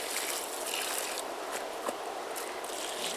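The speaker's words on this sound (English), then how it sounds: "time for the last blast of cold water here" Cold water is poured out in a last dousing on a trail outing, a continuous broad rushing hiss with a faint splash partway through, close and unbroken, with no voices.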